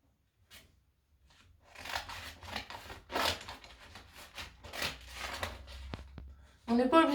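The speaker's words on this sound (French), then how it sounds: "je prends les ciseaux et je viens couper" Scissors snipping through paper links of a craft figure, a series of close, crisp cuts with rustling paper between them, growing busier toward the end.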